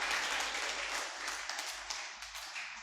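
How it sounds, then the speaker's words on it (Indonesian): An audience at a Sunday family church service claps for the parents, a steady patter of applause from a gathered crowd that thins slightly toward the end. "Kita beri aplaus ya buat orang tua kita"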